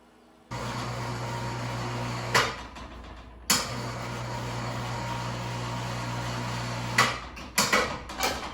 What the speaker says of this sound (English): the hoist just hooks to this eye bolt right here, and lift it up and down like that.